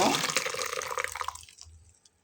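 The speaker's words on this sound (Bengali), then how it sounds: "এর ভিতর আমি এখন দুধ ঢেলে দেব।" Milk pours in a steady splashing stream into an ice cream mixture, close and fairly loud, then tapers off and stops. A voice is faintly present.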